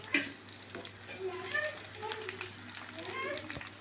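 Chicken wings frying in hot oil give a soft, steady sizzle and bubbling that runs beneath a person talking throughout.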